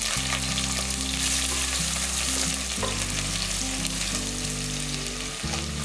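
Garlic cloves and small shallots frying in oil for a meat gravy: a loud, steady, close sizzle and crackle throughout, with background music underneath.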